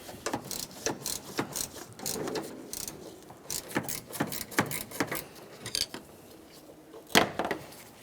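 A ratchet wrench clicks rapidly in bursts while loosening the front strut mounting nuts on a 2012-2015 Honda Civic, with brief pauses between runs and a louder metallic clunk near the end.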